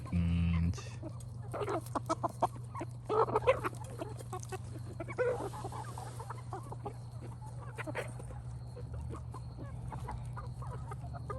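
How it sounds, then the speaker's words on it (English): Chickens cluck softly in short bursts nearby over a steady low hum, with scattered pecking and scratching sounds. "Nice chickens."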